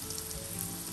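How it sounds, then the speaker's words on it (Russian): Steady crackling sizzle of chicken nuggets frying in hot oil, close and continuous, with no voices. "Первая порция жарится"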